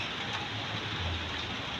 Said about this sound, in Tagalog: Sa wakas umulan talaga.